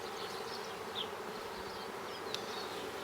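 Mountain Grey Caucasian honeybees buzz steadily and softly around an open hive during an inspection, with individual bees droning close past now and then.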